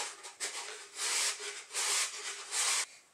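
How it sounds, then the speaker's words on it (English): A paper towel wipes over sanded plastic bottles, giving soft, close rubbing swishes in several repeated strokes with short pauses between them. "get a tissue or a paper towel and wipe off the excess"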